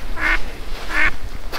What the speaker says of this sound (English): The ducks like it in here anyway.